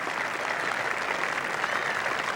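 A golf gallery at the 1981 Masters claps steadily for Jack Nicklaus, a dense continuous wash of applause from a large crowd at a distance.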